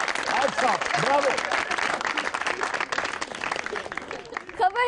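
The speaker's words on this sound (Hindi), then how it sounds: "ताली होनी चाहिए इसके लिए, ताली।" Studio audience applause on a Pakistani TV comedy show, bursts of clapping mixed with laughter and chatter, with people speaking over it and a voice rising near the end.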